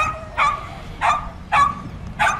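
Four evenly spaced dog barks ring out at a steady rhythm, fairly loud and near, against a quiet background with no speech; dogs on a coastal walk between North Shields and Whitley Bay.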